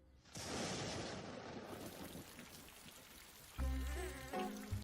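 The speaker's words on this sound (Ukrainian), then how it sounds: "Не обійшлося без пригод і почався дощ." Heavy, chilly rain falls in a park, a dense close patter starting abruptly, with a louder humming engine-like tone entering near the end.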